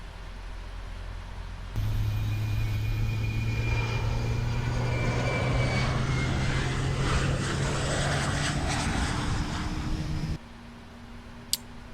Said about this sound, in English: I'll go ahead and start engine number 2